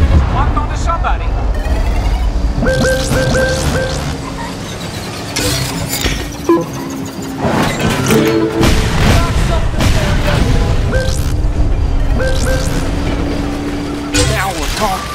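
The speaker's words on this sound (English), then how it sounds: "Those tracking rockets locked onto somebody!" Tracking rocket explosions in the racing game Cars 3: Driven to Win, with booming blasts and shattering crashes over engine noise and game music, while a voice talks excitedly throughout.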